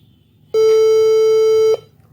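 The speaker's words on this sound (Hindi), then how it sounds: "और वही बीप आ रहा है जो कि 65 वाट एडाप्टर में आ रहा था" A single steady electronic beep, loud and clean, lasting a bit over a second from an HP all-in-one PC at power-on while running on a replacement adapter, in a quiet room with no talking.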